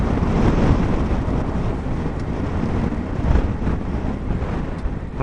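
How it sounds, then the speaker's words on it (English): Strong wind roars across the microphone while riding a Honda Africa Twin off road on MotoZ Tractionator adventure tires, a dense continuous rushing buffet with low rumble, steady and loud throughout. "the wind's blowing heavy"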